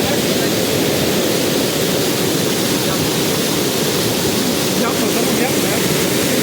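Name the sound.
Cehennem waterfall rushing water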